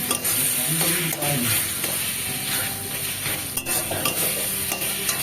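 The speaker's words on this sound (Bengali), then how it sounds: "একটু গ্যাসটা বাড়িয়ে দিতে হবে আর ভালো করে এখানে ঘেটে দিতে হবে খুন্তি দিয়ে" A spatula scrapes and stirs kochu shak, taro leaves, in a frying pan over a raised flame, giving continuous close sizzling with irregular rasping scrapes and clacks of metal on the pan.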